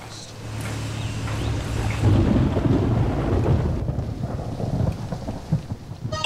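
Rain and thunder in the video game Trouble in Terrorist Town: a continuous loud downpour with rolling thunder building and swelling over several seconds.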